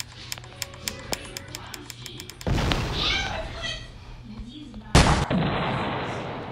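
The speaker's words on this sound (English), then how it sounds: "Bomb this floor now." Bombs go off in a Roblox game, each one destroying a floor or spawner. A light patter of small ticks comes first, then two loud, heavy blasts rumble out one after the other.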